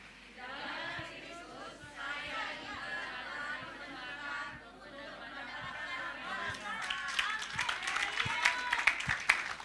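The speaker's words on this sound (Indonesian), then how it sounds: "Lalu saudara bisa bertepuk tangan buat Tuhan." A church congregation claps for God, a dense crowd applause with chatter that builds and grows louder and sharper toward the end, voices mixed in.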